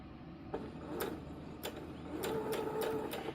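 A sewing machine stitches fabric for a scrunchie in quiet, uneven bursts, with faint mechanical clicks and a soft whirring hum running close by and no talk.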